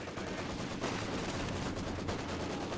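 Bursts of Maxim machine gun fire ring out in the Company of Heroes battle game, as rapid rattling shots sit in a dense wash of gunfire and battlefield noise.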